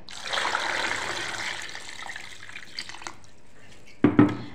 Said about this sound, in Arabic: راح مباشرة اضيف عليها المي ونسلقها